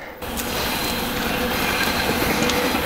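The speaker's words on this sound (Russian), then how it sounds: "Едет поезд." A train passing along a traditional railway line near a forest, heard up close as a loud, steady rumble with metallic rattling of wheels and cars that fills the whole stretch.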